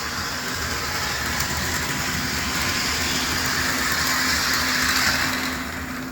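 A 25th Anniversary HO scale model train runs around its track with a steady, continuous motor hum and rolling whir, close by and even in level throughout.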